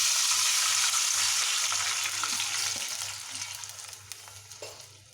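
Water from a small pot hits hot oil and chicken in a cooking pot for Hyderabadi dum biryani, giving a loud, hissing sizzle that slowly dies down to faint crackles and stirring clinks, with a low electrical hum underneath.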